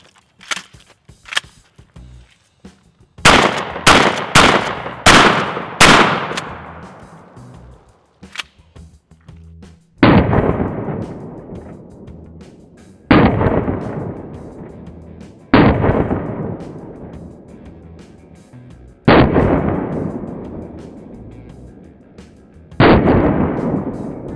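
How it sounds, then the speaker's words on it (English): Shotgun blasts tearing into a stack of cookbooks: a quick volley of sharp reports followed by five loud, evenly spaced booming shots, birdshot then slugs, each trailing off in a long echoing decay outdoors. "We got three rounds of birdshot followed up by two slugs."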